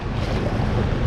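River water rushes around a kayak on the French Broad River, a loud, dense, continuous wash with buffeting wind noise and no voices.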